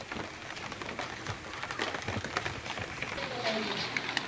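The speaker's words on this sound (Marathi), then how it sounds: "इथं बघा जोरात पाऊस पडते इथं." Heavy rain pours down amid thick fog in the Konkan countryside near Roha, Raigad, making a steady, dense, close hiss of drops striking surfaces that holds evenly loud throughout without a break.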